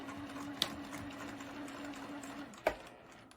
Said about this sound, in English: we bring it over to the sewing machine, drop that presser foot, and do some anchor stitches.